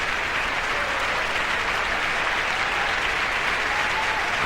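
Opera audience and the chorus applauding the composer and librettist at curtain call in a theater after a New York City Opera performance of Lizzie Borden; dense, steady clapping fills the hall throughout, loud and continuous.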